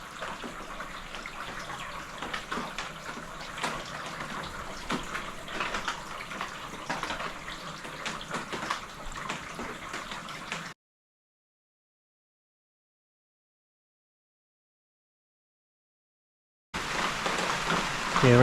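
Rain runs and drips off vinyl pergola roof panels into the gutters, a steady soft wash of falling water that cuts out to silence partway through and then returns a little louder.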